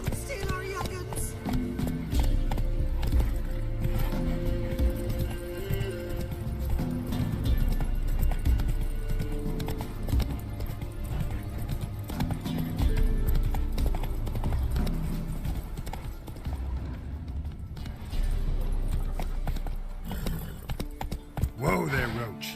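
Roach, a horse in The Witcher 3, gallops in a rapid, continuous clip-clop of hooves through a game scene, mixed with music and effects. Voices talk over much of it.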